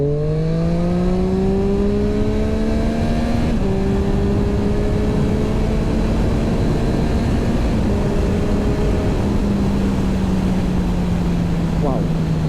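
A restricted motorcycle engine, limited to 47.5 horsepower, revs loudly and steadily, its pitch climbing and settling in long sustained drones, with a brief shift partway through.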